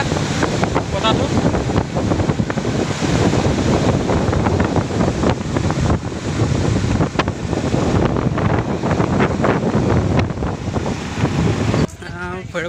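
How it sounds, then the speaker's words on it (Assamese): Cool wind blows hard at Bhairabkund, buffeting the microphone in a loud, continuous roar with gusty swells for the whole stretch. It shifts abruptly just before the end. "ধুনীয়া ঠাণ্ডা বতাহটো।"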